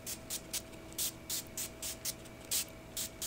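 NYX Dewy Finish setting spray misted in a run of about ten quick, evenly spaced pumps, each a short bright hiss over a faint steady background.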